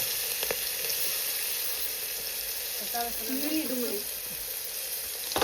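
Asafoetida, turmeric and chopped onion sizzle steadily in hot oil, a constant bright hiss that runs the whole time, with a voice briefly talking over it partway through.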